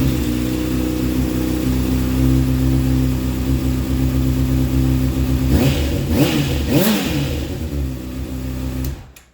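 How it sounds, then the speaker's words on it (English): A Honda CBR 600RR sport motorcycle engine runs loud and steady close by, rising through several sharp throttle blips near the end before cutting off abruptly. "I'm going to start up this CBR 600RR because I love motorcycles"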